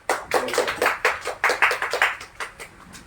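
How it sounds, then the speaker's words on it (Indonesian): Applause in a primary-school Islamic history class session, a short burst of irregular hand claps from a few people nearby, thinning out and fading after about two seconds, with no talking. "kasih aplaus dulu untuk"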